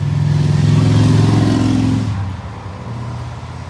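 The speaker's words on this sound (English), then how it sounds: "The motorcycles are cruising today." Motorcycles cruising by on a road pass close and loud, the engine roar swelling then fading away after about two seconds, leaving a softer lingering rumble.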